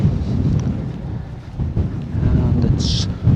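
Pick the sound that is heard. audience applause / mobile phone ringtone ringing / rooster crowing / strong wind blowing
strong wind blowing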